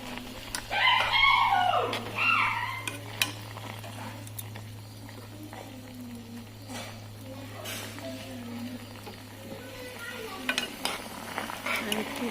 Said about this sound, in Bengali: এই যে ম্যাগি রান্না করছি এখন দিয়ে দিলাম একটা কাঁচা লঙ্কা